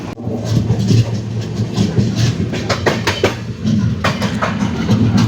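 A train rolls over the Perumon bridge across Ashtamudi Lake, a loud steady rumble with rhythmic clattering bursts of the wheels and a low engine hum throughout.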